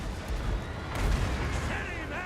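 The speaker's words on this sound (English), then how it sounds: "Start bombing with the mortars." Mortars fire in battle in the video game Total War: Warhammer 2. Booming shots and a rumbling impact stand out from a busy battlefield din.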